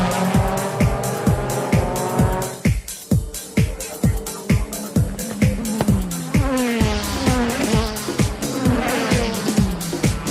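Nissan Z GT500 race cars at a JGTC race, engines roaring and rising through gears under music, with loud close passes and tyre noise throughout.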